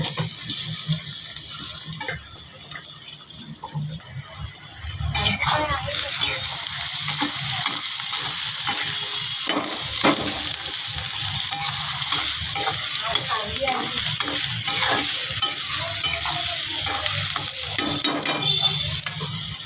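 Garlic and onion sizzling in hot oil as they are fried and stirred in a pan for a wild korla vegetable dish, a continuous loud sizzle with a faint voice briefly underneath.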